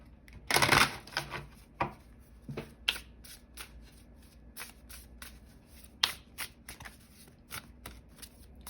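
A deck of oracle cards is shuffled by hand, starting with a loud riffle burst and continuing as a series of crisp, irregular flicks and snaps, close and clear.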